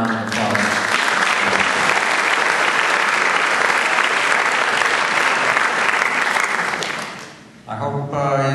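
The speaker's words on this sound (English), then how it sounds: "So let's have a round of applause." A concert audience gives sustained, dense applause that fills the room, then fades out near the end as a voice begins.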